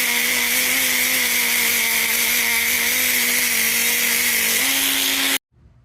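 A small wire wheel on a power tool scrubs a dirt bike part, likely from a Kawasaki KDX, as a loud steady whine that shifts slightly in pitch before cutting off abruptly.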